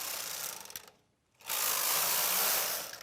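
A knitting machine carriage slides back and forth across the needle bed, setting the needles with a rattling mechanical whir that pauses briefly before running again, loud and close.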